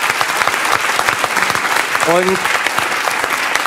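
Studio audience applause on a German talk show, a dense sustained wall of clapping throughout, loud and close, with a brief spoken word over it.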